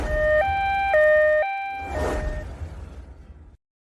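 An ambulance siren wails in a two-tone hi-lo pattern, alternating pitch about three times over the first second and a half. A whooshing rush follows, then the sound cuts off before the end.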